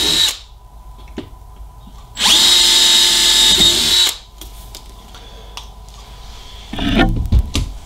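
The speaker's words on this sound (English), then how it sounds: "drill 1/8 inch holes" A power drill boring 1/8 inch holes through a Harley-Davidson Rockford Fosgate speaker lid, one loud steady whine of about two seconds, with quieter handling sounds around it and a short burst of tool noise near the end.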